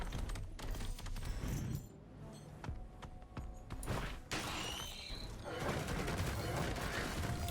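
Gunner turrets firing in Risk of Rain 2, rapid bursts of gunfire with sharp thuds and mechanical clatter, dense at first, thinning in the middle, then building again.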